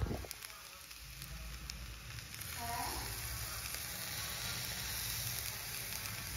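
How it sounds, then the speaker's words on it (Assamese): Rice frying in a pan with cumin and spices gives a soft, steady sizzling hiss that swells louder partway through, with a thin, constant high whine above it. "ভাতখিনি ভাজি ল'ম জিৰা দিম"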